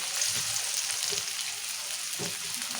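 Tomatoes and onions fry in oil for a Telugu-style ivy gourd curry, giving a steady, close sizzle with light crackles and the occasional stir throughout.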